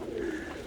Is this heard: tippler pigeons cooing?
yes